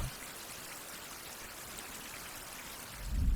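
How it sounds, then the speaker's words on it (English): Steady, faint rain hisses without a break in a survival video game, with a soft low rumble swelling at the very end. "Seems like it's nothing but rain non-stop."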